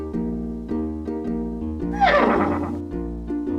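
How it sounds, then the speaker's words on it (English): Pegasus, the winged horse in a Pink Panther video game, lets out a single loud, wavering whinny midway, over a steady background of game music. "That's Pegasus, the winged horse."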